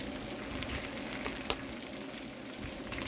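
A pot of pig-head adobo sizzles steadily over heat, with soft scraping and clinks of stirring and one sharp knock of the utensil against the pot midway.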